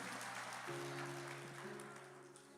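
A church congregation applauds during a sermon, a soft diffuse patter of clapping under sustained organ or keyboard tones that shift chord partway through, fading slightly toward the end.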